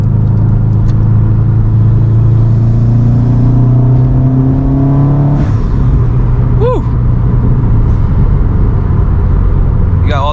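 A 2007 Subaru WRX STI with an EJ engine pulls hard from inside the cabin, a loud droning rumble climbing in pitch, then dropping off at a shift with a brief whistle; a voice speaks faintly under it.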